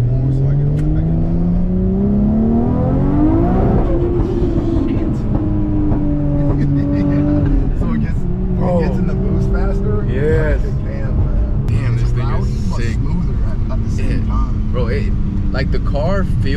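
Nissan R33 GTR with an HKS single turbo driving, engine revving up through the gears with rising pitch and shifts, heard from inside the car with people talking over the steady loud drone.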